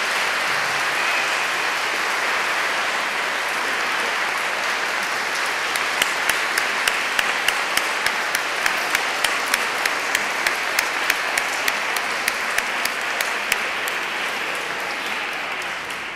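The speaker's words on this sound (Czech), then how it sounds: "Ještě jednou velký potlesk." A concert audience at a benefit show applauds loudly and steadily, the broadband clapping turning into regular rhythmic claps partway through before thinning near the end.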